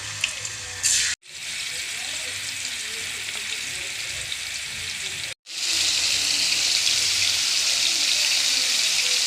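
Shrimp dropped into hot oil in a pan give a loud, steady, close sizzle and crackle that fills the whole stretch, broken by two brief silent gaps, with no voice over it.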